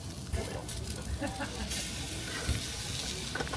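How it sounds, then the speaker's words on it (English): Food crackles and sizzles in butter in a hot pan, a constant hiss with a few soft knocks of utensils, no voices. "There's, there's sizzling."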